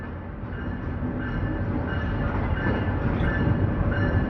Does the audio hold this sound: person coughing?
no